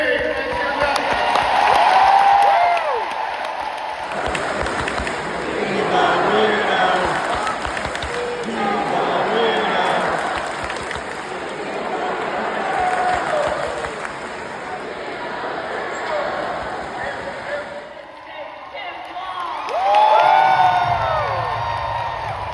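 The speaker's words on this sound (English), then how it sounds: "Just all of the cheering and the non-stop chants" A large crowd at a Kamala Harris rally in Philadelphia roars with sustained cheering, whoops and rhythmic chanting, loud and continuous for most of the stretch, with a brief lull before another swell of cheers.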